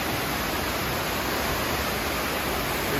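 Cascade de la Fouge pours in a loud, unbroken roar of falling water, a dense rushing wash heard up close and alone, with no voices.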